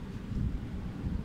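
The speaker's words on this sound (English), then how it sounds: "I can hear the wind." Strong wind from a Storm Ciara squall line rumbles as a steady low roar with gusty swells, buffeting the microphone throughout with no voices.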